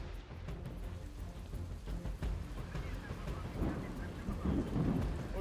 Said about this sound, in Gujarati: અહીંયા એસજી હાઈવે પર આપને સતત અવિરત વરસાદ છેલ્લા 15-20 મિનિટથી વરસતો આપને જોવા મળી રહ્યો છે